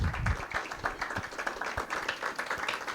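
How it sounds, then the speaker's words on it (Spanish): A seated audience at a civic democracy workshop claps for an honored electoral official, a dense patter of many hands at moderate level, steady throughout with a low thump at the start. "para quien les pido un fuerte aplauso"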